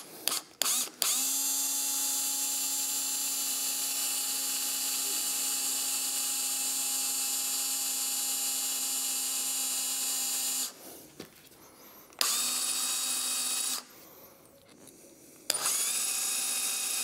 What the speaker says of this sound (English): now with our number 9 drill bit